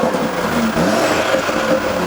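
A 2018 Audi RS3 sedan engine revs loudly and continuously close by, a steady throaty roar with slight rises in pitch.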